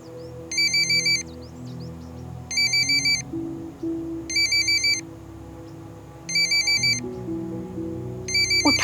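A phone ringtone plays in repeated short electronic bursts, five rings spaced about two seconds apart, over background music in a drama scene.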